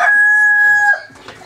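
In a backyard flock of chickens and quail whose hens have stopped laying, a rooster gives a loud, close, sustained crow that cuts off, followed by a few quieter clucks.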